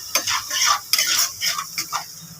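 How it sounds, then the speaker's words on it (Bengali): Onions frying in a pan are stirred with a utensil, giving a series of quick scraping strokes and clinks over a soft, low sizzle. "পেঁয়াজটা আর টমেটোটা ভাজা হবে"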